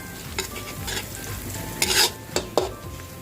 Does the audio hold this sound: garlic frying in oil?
yes